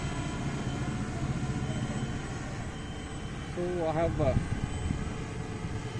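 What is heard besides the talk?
drone powered by LiFePO4 battery flying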